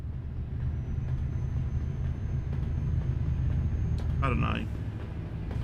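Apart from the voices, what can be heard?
train passing in Euro Truck Simulator 2 video game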